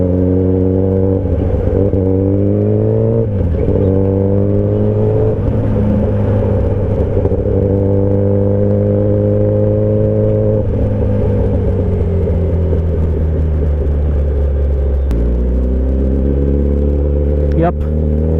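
Kawasaki Ninja ZX10R superbike engine running loud and close, its deep harmonic drone rising and dipping in pitch with a few revs and a sharp drop near the end, heavy rumble throughout.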